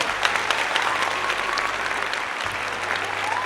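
Steady clapping from a small group fills a podcast studio, dense and even for several seconds at moderate volume, with a low hum underneath and a few faint voices.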